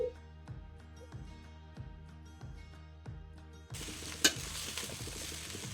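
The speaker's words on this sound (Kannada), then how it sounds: "ನಾನಿಲ್ಲಿ ಒಂದು 3/4 ಕಪ್ ಅಷ್ಟು ರೈಸ್ನ ಆಲ್ರೆಡಿ ಮಾಡಿಟ್ಕೊಂಡಿರೋಂತಹ ಅನ್ನನ ನೋಡಿ ಇಲ್ಲಿ ಮಿಕ್ಸ್ ಮಾಡ್ತಾ ಇದ್ದೀನಿ" Cooked rice is mixed in a pan for carrot chithranna, with quiet, regular scraping strokes of a spoon against the pan over music, followed by a louder rattling clatter and a sharp metallic knock near the end.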